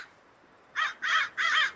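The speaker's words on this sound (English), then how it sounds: "Big flocks of blackbirds want to eat the corn." Blackbirds over a cornfield give three harsh caws in quick succession, fairly close and clear against a quiet background.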